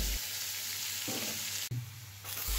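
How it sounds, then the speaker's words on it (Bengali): Chopped onion and crushed garlic fry in hot oil in a wok, a soft, continuous hiss with a few abrupt shifts as the pan is stirred, with no talk over it. "কড়াইতে তেল গরম করে পেঁয়াজ কুচি আর রসুন থেতো করে দিয়ে দিলাম। পেঁয়াজ রসুনগুলো একটু বাদামি করে ভেজে নিব।"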